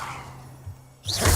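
A Levioso levitation spell is cast in the Hogwarts Legacy video game, a short airy swoosh that swells at the end over a faint low hum.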